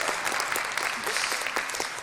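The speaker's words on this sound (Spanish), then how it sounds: "Fuerte aplauso a Ochako." An audience at a science show claps together in a dense, even burst of applause that stays loud throughout, with a voice faintly mixed in.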